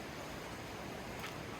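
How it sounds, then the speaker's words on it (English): A river flows below a campsite as a steady, even wash of broadband water noise, soft and continuous with no voices. "The river down there, obviously."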